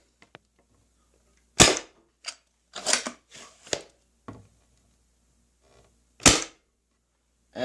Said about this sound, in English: hopefully you can see it shooting